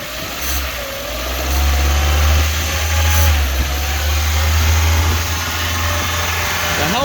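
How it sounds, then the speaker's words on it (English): A car engine is revved up, swelling to a loud, steady drone, holding there, then easing back. The engine is close and loud throughout. "Rev her up a little bit."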